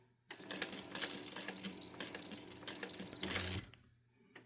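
Sewing machine stitching a bag pattern in a straight seam, a steady close motorized whirr of rapid needle strokes running several seconds before stopping abruptly.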